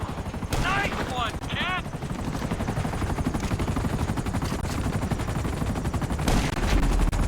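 Rapid automatic gunfire in GTA 5, dense and continuous alongside helicopter noise, with a voice cutting in briefly near the start.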